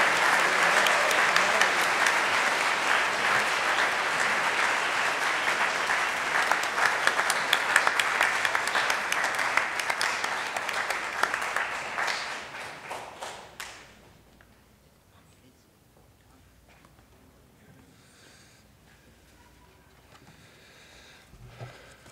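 Audience at a career center awards night bursts into sustained loud applause that fills the room for about twelve seconds, then thins out and fades to scattered claps and quiet.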